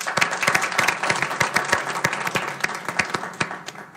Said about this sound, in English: And if you can join me in a round of applause.